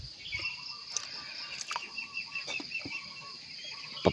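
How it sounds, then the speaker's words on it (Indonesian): Chickens and other poultry cluck and call faintly during a morning feeding, with scattered short bird calls over a quiet outdoor background and no talking. "Pada kesempatan pagi hari ini saya mau ngasih makan unggas-unggas saya ini dengan pakan alternatif"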